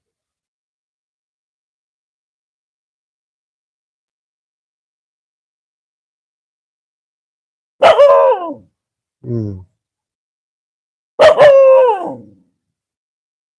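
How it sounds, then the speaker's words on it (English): A dog barks outdoors during a morning yoga session at a skate miniramp, two loud bursts of barking with a short yelp between them, separated by long stretches of silence. "regardless of dogs barking"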